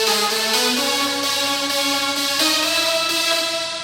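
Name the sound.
layered synth lead in a house track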